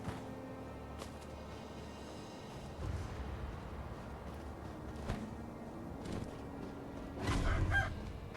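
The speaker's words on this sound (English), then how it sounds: "Bloody birds." Birds cluck in the Ashina Outskirts area of the video game Sekiro, faint and sporadic over a steady ambient game background, with a slightly louder flurry near the end.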